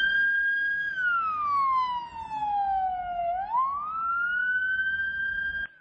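An ambulance siren wails in a Romanian city during a heatwave, its pitch sweeping slowly down and back up in one long loud cycle, steady and clear with little else around it.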